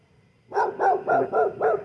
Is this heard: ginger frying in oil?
no